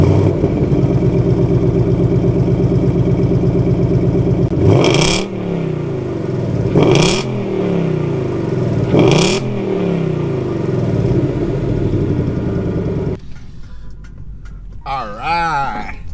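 A wrecked Mustang GT runs with a steady engine drone, three rising revs spaced a couple of seconds apart, then drops to a quieter rumble as it pulls away, loud and close.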